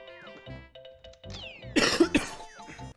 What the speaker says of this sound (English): I'm so ready for this cough to be gone.